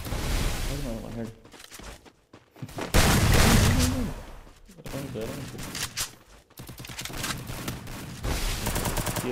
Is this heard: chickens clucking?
no